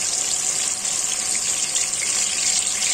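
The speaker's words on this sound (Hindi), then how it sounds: "तेल ऑलरेडी अच्छा खासा गरम हो चुका है, अब इसके अंदर हमें ये फिश डाल दी है।" Fish fried in a pan of hot oil gives a loud, steady hiss of broadband crackle that carries on without a break, with no voices.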